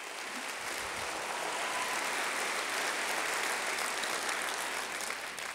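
Full, continuous applause from a large audience at a State of the City address honoring a foundation's board and staff, holding an even, loud level throughout.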